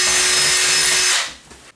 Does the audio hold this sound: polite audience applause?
no